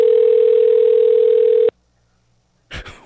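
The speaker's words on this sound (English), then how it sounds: "It's ringing now." On an outgoing telephone call, a steady ringback tone sounds loud and close, then cuts off abruptly into silence before a brief burst of other noise.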